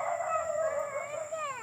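A dog gives a short series of high, whining yelps and barks nearby, with no talk over it.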